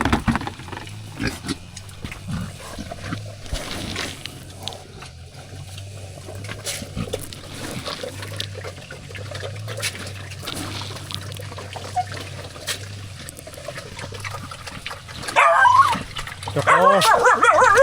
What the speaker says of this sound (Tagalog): Ito yung dalawang tuta guys,